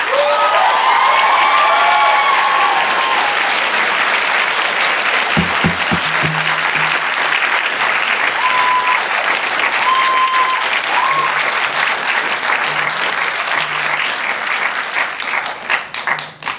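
Sustained, loud applause from an audience at a city council public comment session in Raleigh, with dense clapping that stays steady for most of the stretch before thinning out near the end.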